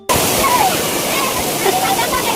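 Kapila waterfall at Kabbaragi, a loud, continuous roar of rushing water close by that fills the whole short stretch without pause.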